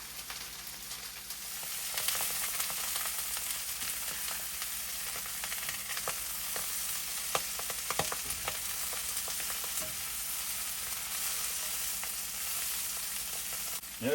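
Brussels sprouts caramelize in a hot pan with a steady, loud, close sizzle that runs throughout, broken by scattered clicks and scrapes of stirring, and no voices.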